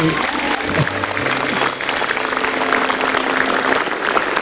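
An audience at a stand-up comedy show applauds loudly and continuously, a dense wash of clapping with some music tones faintly underneath.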